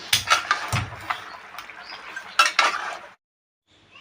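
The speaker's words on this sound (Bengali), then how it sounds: "মাংসগুলো মশলার সাথে ভালো করে মিক্স করে ঢাকা দিয়ে রাখবো" A spoon scrapes and clinks against a pot while mutton pieces are turned through spices, several uneven metallic knocks and scrapes up close, then a brief silence.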